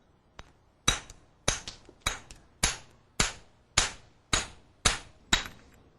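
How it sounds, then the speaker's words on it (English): Sharp mason's hammer strikes chipping thin stone veneer, nine or ten evenly spaced cracking hits with short ringing decays, close and fairly loud, no talking. "take a mason's hammer or a brick hammer and make your chips."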